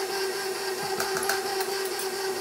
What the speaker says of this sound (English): now I am going to just turn on the mixer, just barely